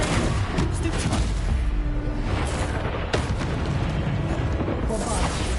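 Heavy booming blasts from the Bombarda explosion spell in Hogwarts Legacy keep rolling through a dense, loud battle din, with a sharp impact near the middle and speech mixed in.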